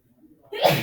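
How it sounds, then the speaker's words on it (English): A single sharp sneeze bursts out close and loud after a brief quiet intake of breath. "Bless you."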